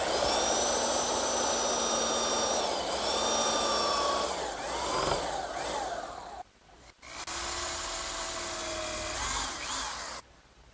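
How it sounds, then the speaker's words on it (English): A belt sander grinds away the excess of a wooden dowel on a writing desk frame, a loud steady high whine whose pitch dips and wavers under load, briefly cutting out near the end before running on. "now I'll just use my belt sander to remove the excess dowel."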